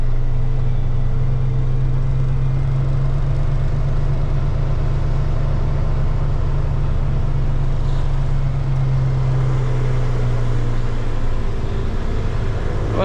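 A local CDL semi truck idles and creeps its trailer back into a loading dock, a steady low diesel rumble holding close and even throughout with slight swells near the end.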